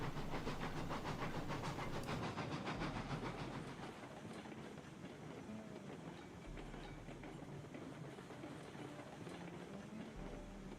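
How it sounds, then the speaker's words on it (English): An underpowered Montezuma steam locomotive running in Railroads Online, with steady rolling clatter and a hissing chuff, loud at first and then settling to a quieter continuous run. "I'm now running a very, very, very underpowered locomotive for what I'm trying to do"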